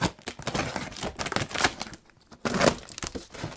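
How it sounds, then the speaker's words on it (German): A cardboard box of ordered New Year's fireworks being opened, with loud close crinkling, tearing and rustling of cardboard and packaging in irregular bursts, a short quiet pause, then more handling. "So, Karton ist offen."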